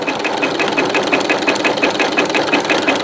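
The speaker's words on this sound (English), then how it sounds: "now I'm going to start sewing fast." Sewing machine stitching a construction rope coil into an oblong bowl, running fast with a steady loud mechanical chatter of rapid, evenly repeating stitches close by.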